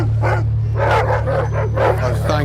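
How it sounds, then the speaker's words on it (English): Big dogs behind a fence barking and yelping in a rapid series of loud, nearby bursts over a steady low hum. "as soon as the dogs see any movement, they go crazy"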